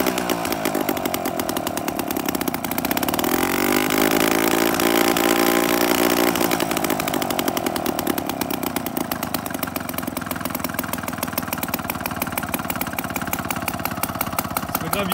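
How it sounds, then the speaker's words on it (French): Loud, buzzy Solex moped engine running with its exhaust pipe shifted so only the bare tube remains, a steady raw drone that swells briefly as it revs, heard close and continuously without talk. "j'aime bien me la péter avec le Solex et faire vraiment un max de bruit"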